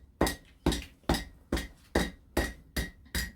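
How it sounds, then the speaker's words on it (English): Sharp, ringing hammer blows bend metal over the horn of an anvil during barehanded forging, eight evenly spaced strikes at a steady rhythm, each with a short metallic decay. "just smack it over the horn of the anvil"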